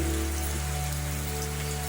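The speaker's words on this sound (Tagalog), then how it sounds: "Sa amin po mga farmers, biyaya po itong ulan na ito." Steady rain falling on high farmland, a dense, even hiss that stays loud and continuous throughout, with no voices.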